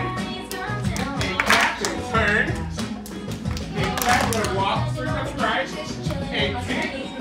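Dancers at a dance party at Castaway Bay in Sandusky, Ohio clap their hands in rhythmic bursts amid busy music and crowd noise, with sharp repeated hand claps cutting through a dense, lively mix.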